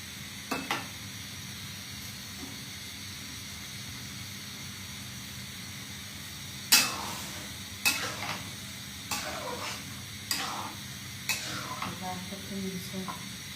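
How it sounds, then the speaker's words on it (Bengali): Food frying in a pan while cooking outdoors, a continuous soft sizzle broken by a series of louder scraping stirs and clinks of a utensil against the pan in the latter half. "বাইরে রান্না করছি"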